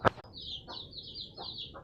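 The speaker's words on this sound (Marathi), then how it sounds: "आताच आपल्याला कोंबड्या सोडलेल्या आहेत" Free-ranging chickens let out in the morning, a sharp clatter followed by a few short clucks and a higher drawn-out call, faint and close, with no talking.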